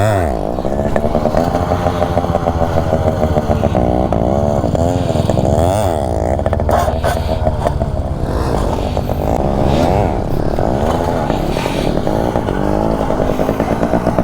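A motorcycle is ridden during wheelie stunt practice, its engine buzzing loudly and continuously with rising and falling revs as the rider works the throttle, while someone speaks over it.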